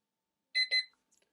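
An XREXS large digital wall clock's countdown timer alarm goes off with two loud, close electronic beeps in quick succession, followed by a few faint short blips, with no talking.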